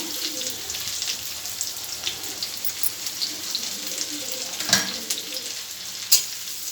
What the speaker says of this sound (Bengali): বন্ধু এবার পেঁয়াজ কুচি আর লঙ্কা কুচি একসঙ্গে দিয়ে দেবো।